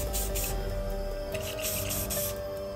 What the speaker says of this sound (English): hold it upside down, get out a few sprays.